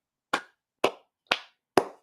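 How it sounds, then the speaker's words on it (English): Four sharp, single hand claps ring out at a steady, even pace during a spoken address, each crisp and separate with silence between. "Everybody clap your hands."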